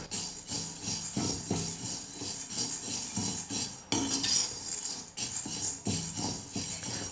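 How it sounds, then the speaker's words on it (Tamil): Chana dal roasting in a kadai over a medium flame, with steady dry rattling and scraping of the lentils against the metal pan and frequent clinks of a stirring spoon. "ஸ்டவ்வை மீடியம் ஃப்ளேமில் வச்சுக்கிட்டு நம்ம கடலைப்பருப்பை நல்லா வறுத்துக்கலாம்"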